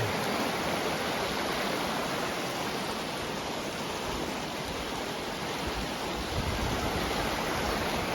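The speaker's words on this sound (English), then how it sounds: "Looks like a pretty mad river from here." Loud, constant roar of rushing water, a fast flooded creek surging without pause and filling the whole soundscape.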